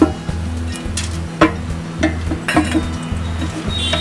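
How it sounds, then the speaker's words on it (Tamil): Whole garam masala spices dropped into hot oil for a layered mutton dum biryani, a soft steady sizzle under repeated metallic clinks and scrapes of a ladle against the pan. "இப்போ கரம் மசாலா, ஹோல் கரம் மசாலா இருக்குல்ல, அது போடுறோம். பாருங்கள் நல்லா பொரியுது."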